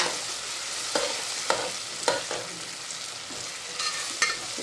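Onions sizzle in hot oil for a prawn biryani while a spoon stirs them, giving a steady frying hiss broken by about eight sharp scraping clinks of the utensil against the pan.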